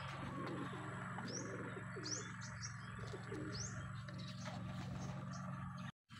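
Racing pigeons back from a training flight coo softly in a loft, with scattered chirps and brief wing flaps over a steady background hum, ending in a moment of silence.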